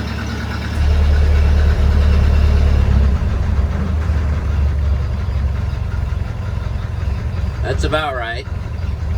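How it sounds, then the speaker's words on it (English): A Ford Model A engine idles steadily after a cold-morning start, close and loud, with a low, even rumble that drops slightly early on. Someone speaks briefly near the end. "She's running good now. Throttle's up a little high. I'll turn that down."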